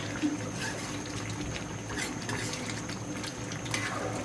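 Soybean curry with a thin gravy bubbles steadily in a pot on a home stove, making a continuous close hiss and simmer with no talk over it.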